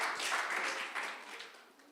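A church congregation at a Sunday service claps in a short burst of applause, the clapping fairly soft and gradually tapering off over two seconds.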